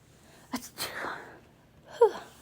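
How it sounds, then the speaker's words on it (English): A person sneezes once with a sharp explosive burst, then gives a shorter sniff or stifled follow-up sound a moment later, close to the microphone and otherwise quiet. "Sorry, I really had to sneeze."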